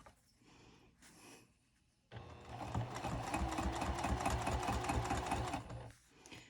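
A sewing machine stitches a wristlet clutch, starting after a quiet pause and running in a steady, close, rhythmic whir for about three and a half seconds before stopping.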